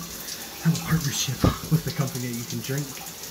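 A home shower runs steadily and softly in an echoey bathroom while someone talks over the hiss of the water.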